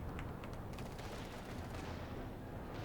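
Panzer headquarters fire in Company of Heroes 2, faint and distant volleys of rapid gunshots under a dense wash of battle noise, with no clear voices.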